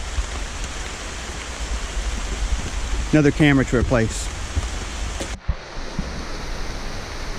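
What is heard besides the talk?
rushing rainforest creek water in Costa Rica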